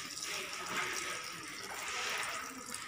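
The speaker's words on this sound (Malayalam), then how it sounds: "അതിനുശേഷം നമ്മൾ ചെയ്യേണ്ടത് അതിലേക്ക് വെള്ളം ഒഴിക്കുക." Water poured steadily into a container of cement mix, a soft continuous splashing trickle heard up close and fairly faint, with no talk over it.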